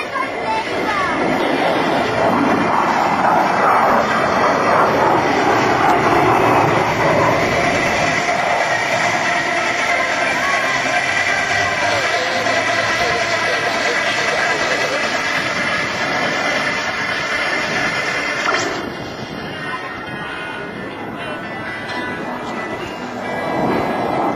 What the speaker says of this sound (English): repositioning his aircraft to perform a level 360-degree high G-turn